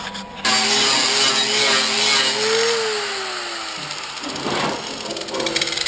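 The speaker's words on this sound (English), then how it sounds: "just a few quick hits with a 60 grit flap disc, how quickly it levels that bead right off of there" A 60 grit flap disc on a grinder levels a weld bead on a car rust-repair patch panel, giving a loud, steady whine that lasts several seconds before winding down, then a short rougher burst. No one speaks.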